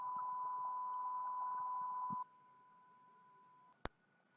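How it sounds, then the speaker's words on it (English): A steady computer beep generated with the Python winsound module holds one pure tone, loud for about two seconds, then fainter, ending before a sharp click. "So when I run it, we get the beep of 5 seconds."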